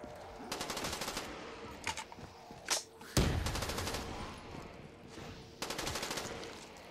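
Rapid automatic gunfire from guns in a Minecraft custom zombies map, several bursts of fast rattling shots separated by short pauses, with a couple of single sharper blasts in the middle, close and clear.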